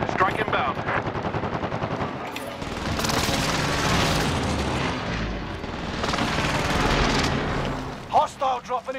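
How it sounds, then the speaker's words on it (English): Video game airstrike with heavy explosions and rattling automatic gunfire, loud and continuous, swelling into rolling booms midway and ending with a few separate bursts; voices are heard in places. "Bring on the airstrike."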